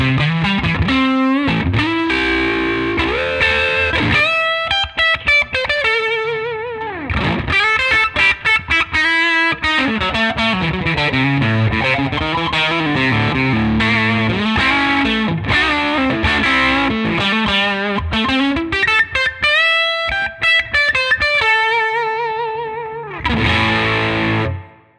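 Electric guitar through a Tonex amp capture on its vibrato channel, played continuously with sustained chords and melodic lines under a wavering, pulsing modulation, loud and alone with brief pauses.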